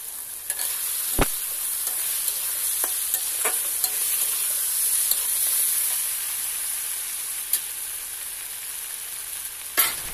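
Ginger-cumin paste with dried chili and turmeric powders frying in a pan for a fish curry, a steady close sizzle broken by several sharp scraping stirs of a spatula, no voices.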